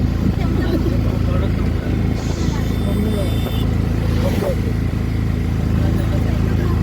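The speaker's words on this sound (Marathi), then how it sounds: "आम्हाला गाडी भेटत नाही म्हणून आम्ही ऑटो करून चाललोय" An auto rickshaw engine drones steadily during a ride, a loud continuous mid-pitched rattle running throughout, with a person talking over it.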